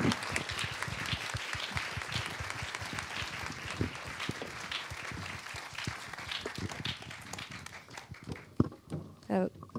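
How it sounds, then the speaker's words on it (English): Audience applause at a documentary film Q&A in a New York theater, sustained dense clapping from a crowd throughout, with a voice talking over the tail end. "Can we please have a big round of applause?"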